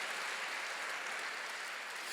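A church congregation applauds during a Korean worship service, a steady, even wash of many hands clapping at once at moderate volume, with no break.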